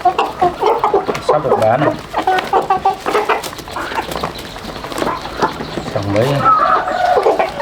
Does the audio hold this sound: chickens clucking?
yes